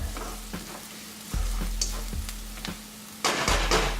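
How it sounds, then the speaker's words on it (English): Onions frying in a pan for a Sindhi lamb dish, a steady low sizzle with occasional pops and a louder burst of crackling near the end, no voices. "it'll take about 4 or 5 minutes for the onions to get that nice golden brown color"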